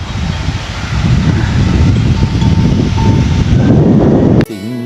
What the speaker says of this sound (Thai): ต้นไผ่ ลมพัดแรงมาก